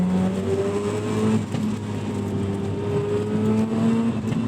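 A 1990 Mazda RX-7 FC rotary engine drones steadily from inside the car while driving, with a brief throttle blip that lifts the engine pitch once before it settles again. The engine stays loud and close throughout, with no talk.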